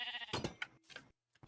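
A Minecraft sheep bleats close and clear, a short wavering call followed by a brief silence.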